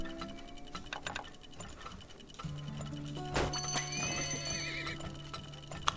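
Horses in the desert oil-drilling game Turmoil whinny and clip-clop, with hoof taps and ticking game effects over a busy background, and a sharp, louder neigh midway.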